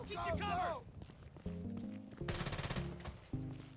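Automatic gunfire crackles in rapid bursts during a GTA Online firefight, with repeated volleys, the loudest near the end, sounding alongside game music and effects.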